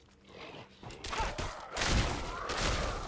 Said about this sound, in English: I like that fucking penetrating shot though